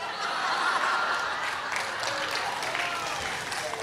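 Church congregation at an Indonesian sermon on the Trinity breaking into dense, continuous applause, mixed with some chuckling and crowd murmur, fairly loud throughout.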